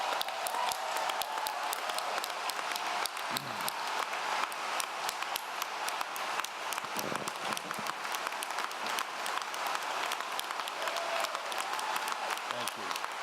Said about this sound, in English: I would ask for one round of applause for the educators of West Virginia